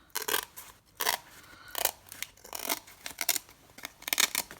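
Scissors snip through part of an altered book box in a rapid, irregular series of sharp, close cutting strokes with brief pauses between them, no talking.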